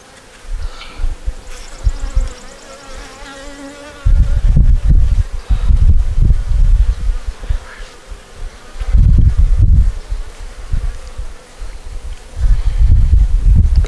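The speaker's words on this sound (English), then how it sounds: "Good amount of bees here." A large swarm of honey bees buzzes loudly and continuously around hive frames outdoors, the drone rising in thick, close surges as frames are handled, with intermittent rustling and knocking.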